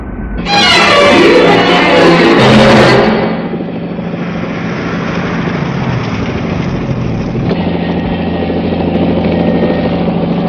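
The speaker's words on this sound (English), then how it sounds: "Crash that helicopter." A helicopter hovers above a tower in a 1967 sci-fi TV series, starting with a loud, harsh roar for a few seconds before settling into a steady, close engine drone that runs alone to the end.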